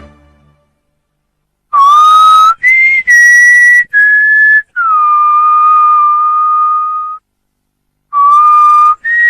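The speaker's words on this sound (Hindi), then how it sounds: "इस तरह की सीटी कोई औरत भी बजा सकती है।" A woman whistles a tune alone in clear, loud, sustained notes, with a short phrase, a long held tone, a pause, then the melody resuming.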